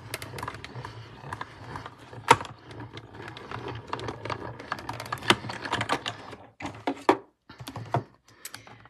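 A manual die cutting machine rolls card stock and a tiny Christmas tree die through its rollers. Close, irregular clicks and light mechanical rattles come in quick clusters, then pause briefly before a few final clacks.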